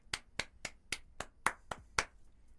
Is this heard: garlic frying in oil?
no